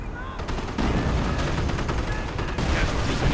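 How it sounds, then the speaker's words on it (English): Heavy artillery and machine-gun fire from a World War II real-time strategy game, a dense, steady barrage of rapid cracks and booms with faint voices in the background. "artillery causing quite some heavy losses, breaking the strong point"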